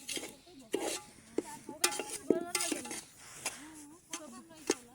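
Food frying and being stirred in a pan over an open fire in a village kitchen: irregular scrapes and metallic clinks of a utensil against the pot, with soft sizzling underneath and brief vocal sounds in between.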